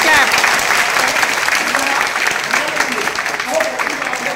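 An audience at a university library event breaks into loud, sustained clapping that fills the room, with a voice speaking over it.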